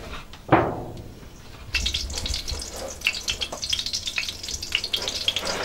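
Cooking oil heats in a pot for frying blended spice paste; a sharp crackling burst sounds near the start, then a steady, close sizzle with fluttering pops continues alone to the end.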